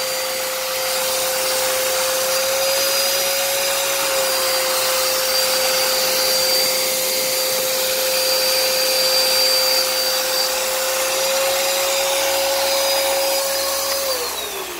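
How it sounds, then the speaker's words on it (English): A vacuum cleaner with a jammed, scraping brush roll runs loud and steady with a constant motor whine throughout, then winds down at the end. "needs some type of work on the brush roll, because it clearly is jammed or is scraping or something is wrong with it"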